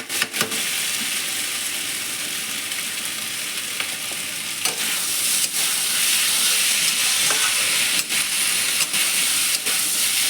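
Vegetables and spices fry loudly in a hot pan for a mourola fish chorchori, hissing and sizzling without a break. Occasional scrapes and knocks from a spatula stirring them come through, and no one speaks.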